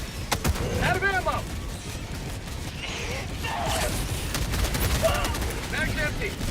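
Gunfire in Helldivers 2, dense bursts of automatic shots and impacts mixed with battlefield clatter, loud and close, with voice lines heard over the shooting.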